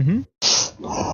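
A single sharp, close sneeze bursts out after a short voiced intake of breath and a brief pause, then trails off into breathy noise.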